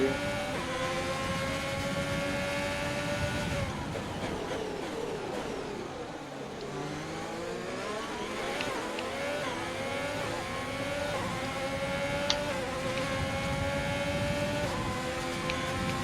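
Haas Formula 1 car engine in the F1 2020 video game at the United States race, a loud, continuous high-pitched whine sweeping up and down through gear changes, with no talking.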